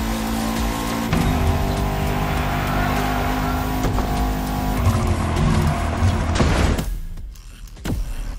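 A Bugatti Veyron driven in the racing game The Crew Motorfest, a loud steady engine roar with tire noise that swells and holds, then drops away abruptly near the end.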